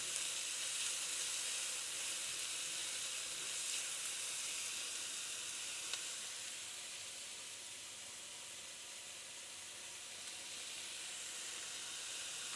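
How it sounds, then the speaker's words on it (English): Vegetables seasoned with salt fry in a pan with a faint, even hiss and sizzle that holds steady throughout, softening slightly midway, with no talking. "I will fry this like 2 minutes and then I will add in the raisin."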